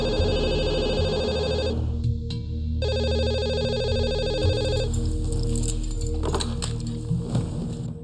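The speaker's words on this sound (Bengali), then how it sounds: "ও সোজা আদিত্যর মাকে ফোন করা শুরু করলো।" A telephone rings with a loud, close electronic ringtone in repeated bursts, pausing briefly before ringing again, with no one speaking over it.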